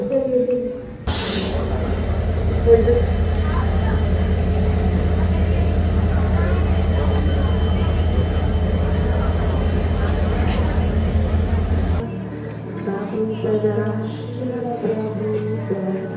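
A recorded train sound effect played during a stage drama, a loud rumbling, clattering rail noise that starts with a sharp burst and runs steadily for about ten seconds before cutting off, followed by faint voices and stage ambience.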